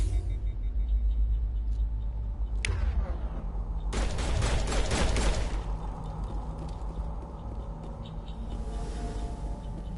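Gunfire aimed at the player during a Mass Effect firefight, a sharp crack followed by a dense burst of rapid shots lasting about two seconds over a steady low engine-like rumble, loud and close.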